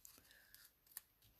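A few quiet, close snips of scissors cutting, short and crisp with brief pauses between them.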